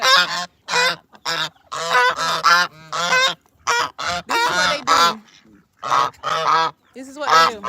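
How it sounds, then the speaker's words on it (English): An African goose honks loudly and repeatedly in bursts of harsh, nasal calls on a homestead, close to the listener with brief gaps between honks. "he is an African goose"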